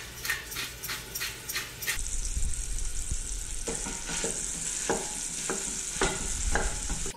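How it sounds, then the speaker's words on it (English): Ground beef sizzles loudly in a hot pot, a steady hiss of frying with occasional scraping and stirring clicks, close up. "as soon as you throw the meat in, you're getting that sizzle immediately"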